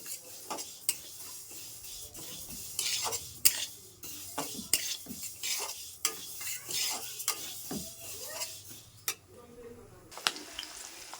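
Mung dal dry-frying in a pan for khichuri, heard as a quiet scraping and rattling of a spatula stirring the lentils, with irregular clinks against the pan and a few faint voices.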